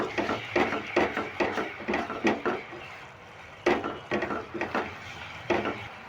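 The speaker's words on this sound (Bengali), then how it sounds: "এবার মশলাটা দিয়ে ভালো করে নেড়ে নিচ্ছি" Grape pickle being stirred with a spice mix in a pan, a spoon scraping and knocking against the metal in repeated bursts of close, moderately loud clatter with brief pauses between strokes.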